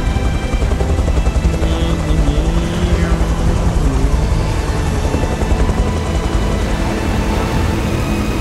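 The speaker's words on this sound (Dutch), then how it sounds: "Een helikopter." Helicopter in the video game Beyond Two Souls: a loud, steady rotor and engine drone holds evenly throughout, with a dense low rumble and no talk over it.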